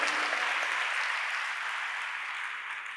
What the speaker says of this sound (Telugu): చప్పట్లు కొట్టి దేవుని మహిమపరుచుకుందాం మనం.